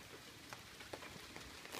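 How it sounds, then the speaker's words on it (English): Steady rain patters outdoors near a parked car, a faint, even hiss with occasional soft drop ticks and no talking. "See, it's raining"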